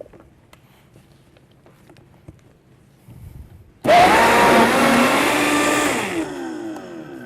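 A Vitamix blender whirs through raw pumpkin pieces, honey and water, starting suddenly after light kitchen clatter, a loud close roar that holds for about two seconds then winds down and fades.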